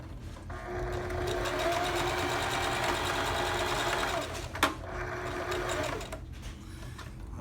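A sewing machine runs continuously, stitching elastic onto a fabric face mask, with a steady close motor whir and rapid needle chatter, a brief thump partway through, and no talking.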